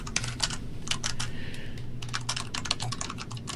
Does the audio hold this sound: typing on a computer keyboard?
yes